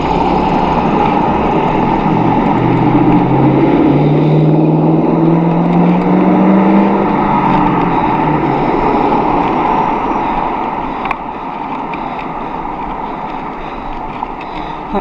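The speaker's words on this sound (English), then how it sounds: "That car, it was loud exhaust and go faster stripes." A car with a loud exhaust drives past, a steady engine roar peaking in the first seven seconds and then fading. It is heard from a bicycle on a road beside parking spaces, with constant wind noise throughout.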